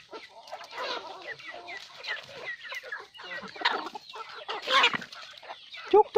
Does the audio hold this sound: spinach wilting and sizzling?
no